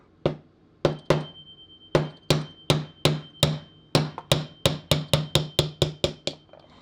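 A small hammer taps sharply on a hard block about twenty times, knocking a section out of a 1940 Parker Vacumatic pen, slow at first and then quickening into a steady, close, ringing rhythm.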